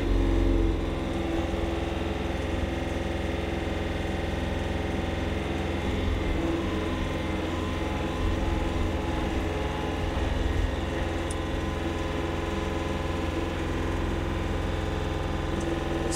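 A Kioti CK3510SEHC compact tractor engine running steadily and loud at close range, a continuous diesel drone with only slight swells in pitch as the revs rise, no voices over it.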